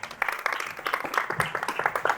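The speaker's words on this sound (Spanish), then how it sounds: "Un aplauso para el circo, ¿no?" Audience applause for the circus at a film colloquium, with moderate, scattered clapping from a small crowd, fairly close and sustained for the whole stretch.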